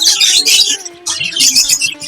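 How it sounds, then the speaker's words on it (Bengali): A semi-adult budgerigar squawks loudly while held in the hand, giving a quick run of harsh, close chirps and screeches with a brief pause midway. "এইটা কিন্তু সেমি অ্যাডাল্ট পাখি, এই যে আমি ধরছি।"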